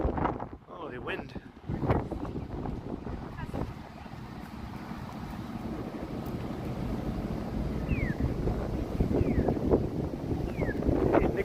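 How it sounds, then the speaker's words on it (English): Gusty wind buffets an outdoor microphone on a downtown Toronto street walk, a steady low rumble swelling and easing throughout with a few distant background sounds. "Oh, the wind."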